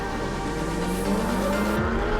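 Ferrari Challenge race cars at the Monza circuit, a steady loud engine roar with a rising whine as the cars rev and move, sustained throughout with no talk.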